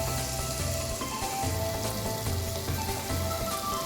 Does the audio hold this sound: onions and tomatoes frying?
yes